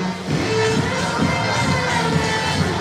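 Crowd at a night party at a resort in Sosua cheers and shouts in a loud, continuous roar, with scattered excited yells over the din.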